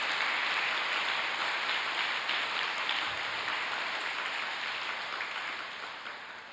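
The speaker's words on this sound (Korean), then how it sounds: "큰 박수를 부탁을 드리겠습니다" A packed audience at a prayer gathering gives sustained applause, a steady dense hiss of many hands clapping that fades slightly toward the end, with no voices over it.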